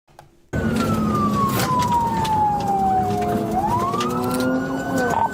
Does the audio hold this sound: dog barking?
no